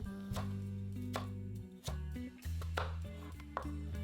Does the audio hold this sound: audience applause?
no